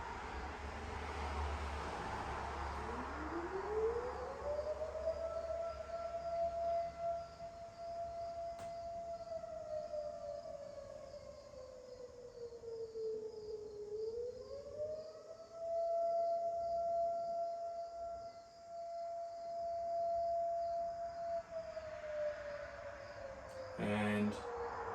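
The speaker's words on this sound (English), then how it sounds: "you may become aware of the sounds in my environment, the sound of the siren, the sound of the traffic" A civil defense siren wails in long rising and falling sweeps at a moderate distance, with a low rumble of traffic running underneath the whole time.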